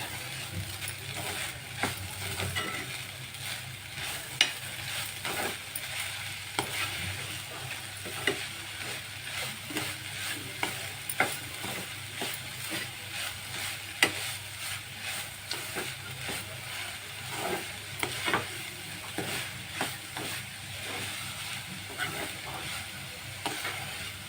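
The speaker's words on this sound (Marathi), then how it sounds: "खोबरं आपण चांगलं परतून घेतोय." A beetroot, carrot and coconut mixture with sugar sizzles softly in a pan while a spoon scrapes and stirs it in irregular strokes, faint and close, with no voices.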